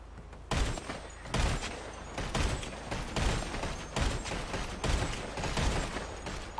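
Rapid bursts of gunfire in the video game GTA RP, a series of loud repeated shots and volleys every half second or so, close and sharp, with no talk over them.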